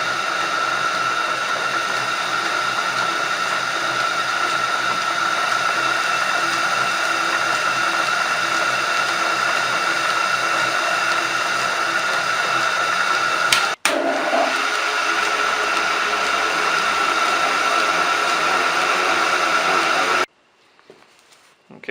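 An old machine tool runs slowly through its gear reduction, giving a steady whirring drone with a constant tone. A sharp click sounds partway through, and the drone then cuts off abruptly near the end.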